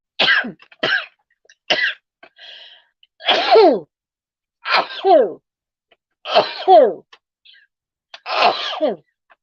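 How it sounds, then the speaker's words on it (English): A run of sneezes, about six or seven in quick succession, loud and close, each a sharp burst with a breathy 'ah' before some. "about to sneeze"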